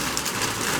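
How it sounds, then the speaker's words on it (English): Steady rain falls outdoors during a woodturning session on a cedar bowl, a dense, even hiss of drops with no other sound standing out. "I apologize for the rain"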